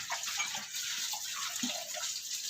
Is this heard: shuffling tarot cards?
no